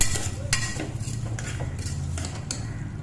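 Tomatoes fry in a pan for tomato bath while a utensil stirs them, with steady close scraping and clinking strokes over a low continuous sizzle, no voices.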